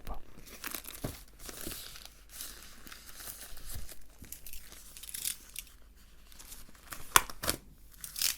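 A glued Panini sticker packet is torn and crinkled open in a series of short, close rustling and ripping bursts, while a person talks over it.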